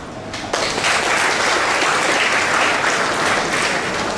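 Audience at a blood donation awareness camp breaks into sustained applause, steady dense clapping from many hands that starts abruptly and carries on evenly throughout.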